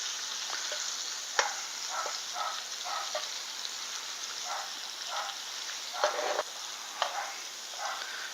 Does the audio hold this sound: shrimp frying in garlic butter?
yes